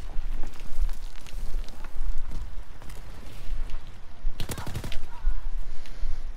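Bursts of rapid automatic fire from a Nambu Type 2 submachine gun in Call of Duty WWII's Attack of the Undead zombies mode, loud and close, in repeated short volleys with one heavier burst near the end.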